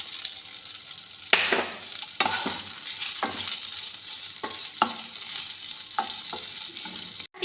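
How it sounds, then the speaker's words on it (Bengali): Slit green chillies, pre-fried bitter gourd and potato are dropped into sizzling spice paste and stirred, giving a fairly loud, steady fry punctuated by a series of sharp scraping and stirring strokes, with no talk. "এবার এর মধ্যে দিয়ে দেব চেরা কাঁচা লঙ্কা আর দিয়ে দেব ভেজে রাখা উচ্ছে আর আলু।"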